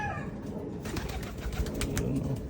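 A domestic pigeon coos during a free-fly recall, soft repeated throaty calls close by over a busy outdoor background with faint flutter.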